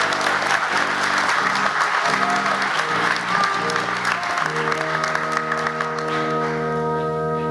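Sustained applause from the audience at a University of Chicago Graham School convocation, honoring the degree graduates: a dense, steady wash of clapping that holds at one level from start to end.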